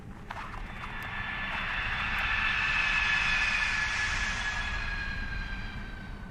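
An Airbus A320neo airliner comes in to land, its engines producing a broad steady roar with high whining tones that swells toward the middle and then eases slightly, continuous and fairly close.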